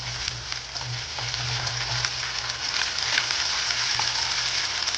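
Onions frying in a pan for a chicken fry, a steady close sizzle and crackle of hot oil with occasional small pops, continuous and fairly quiet, with no talk.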